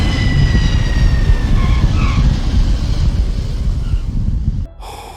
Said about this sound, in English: Gear down. We're landing.